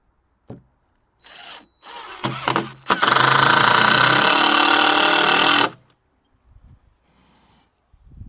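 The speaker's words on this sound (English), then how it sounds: "I hate this drill bit. It strips damn near every screw I use." A cordless power drill drives screws in a garage, with a few short stuttering bursts followed by one long, loud whirring run, then a quiet pause and faint handling noises.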